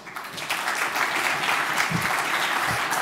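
Steady applause fills a French evening awards ceremony as the audience welcomes an arriving guest, a dense, continuous clapping that stays loud and even throughout.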